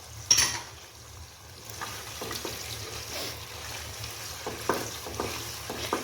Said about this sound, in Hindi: इसको मैं फ्राई करूँगी अच्छी तरह